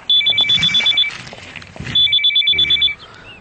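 A telephone ringtone sounds twice as loud electronic bursts of quick alternating beeps, with a brief rustle between the two rings.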